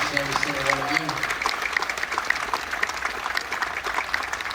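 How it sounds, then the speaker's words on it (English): Audience applause for bronze star recipients at a military tribute aboard the Carnival Dream cruise ship, a steady, moderately loud patter of many hands, with a brief voice at the very start. "Give a round of applause to these wonderful people"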